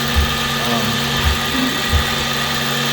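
A lathe drills holes around a metal component for a donut maker, giving a steady machine hum and broadband whir with three soft low thumps spaced through it.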